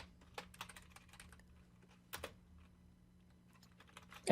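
Someone types on a computer keyboard in short irregular bursts of light clicky keystrokes, close and fairly quiet, with a few louder clustered taps over a faint steady hum.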